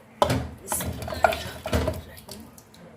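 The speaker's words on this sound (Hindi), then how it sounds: "अब हम इसे कढ़ाई में शिफ्ट कर लेंगे।" Cooked mutton scooped from a pressure cooker into a karahi, with close metallic clinks and scrapes of a ladle against metal, a few soft thuds and faint sizzling, no voices.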